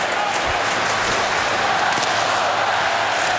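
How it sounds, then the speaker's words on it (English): A sellout hockey arena crowd at a Buffalo Sabres versus Detroit Red Wings game roars in a steady, dense wall of cheering that stays loud throughout, with an announcer's voice faintly beneath. "Crowd alive now, the sellout crowd."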